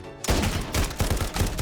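Sniper rifle fire in the video game Modern Warfare 4, a sharp loud shot followed by a quick series of rattling, clattering bursts and mechanical noise, dense and close within under two seconds.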